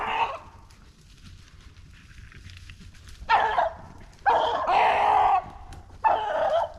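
Hunting dogs on a Pennsylvania rabbit hunt bay and bark in the distance, then loud bursts of baying come close in long sustained bouts with short gaps between.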